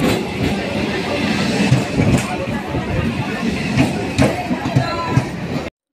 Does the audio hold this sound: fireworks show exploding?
no